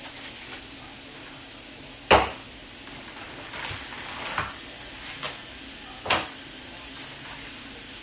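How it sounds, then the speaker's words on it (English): Burgers fry on a hot plate with a steady low sizzle, broken by a few sharp metallic clanks and scrapes of a utensil against the plate. "what we're going to do now is get our burgers cooking"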